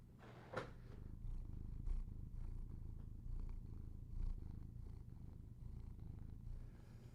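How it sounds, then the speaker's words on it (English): A cat purring steadily and close by, a continuous low rumbling throb that holds for several seconds with gentle rises and dips in loudness. "Oh, you're purring."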